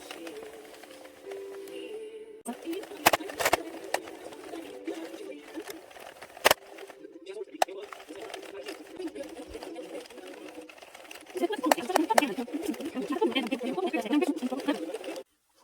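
An addi circular knitting machine cranked steadily while knitting a cowl, giving a continuous whirring, clicking mechanical rattle with occasional sharp knocks, growing louder toward the end, close to the mic.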